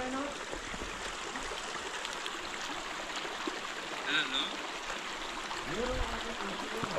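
A stream flows steadily at night in a Godawari forest area, its continuous rushing and trickling water loud and even throughout, with faint bits of human voice in the background.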